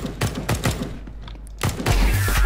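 Rapid bursts of gunfire from the video game CS:GO, a string of sharp close shots through the first second, then a renewed volley and heavier low thumps toward the end, with no talk.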